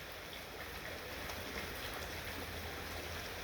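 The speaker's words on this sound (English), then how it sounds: "But since it's raining," Steady rain falls outside on a porch, a continuous broadband hiss with a faint low rumble, close and even throughout with no voices.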